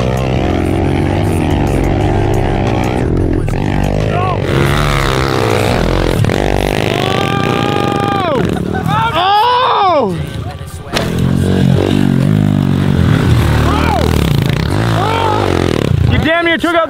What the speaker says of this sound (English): This is called pit bike hill climbing.